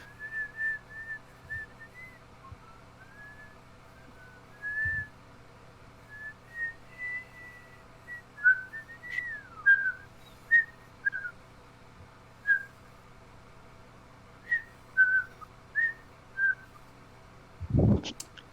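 A person whistles the Andy Griffith Show theme, a bright wandering melody in short phrases of clear notes, with a few low thumps breaking in near the end.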